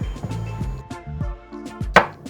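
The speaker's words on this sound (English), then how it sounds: "So we'll just chop up some garlic." Garlic being chopped with a knife on a cutting board, about eight quick, sharp close-up knocks in an uneven rhythm, with no voices.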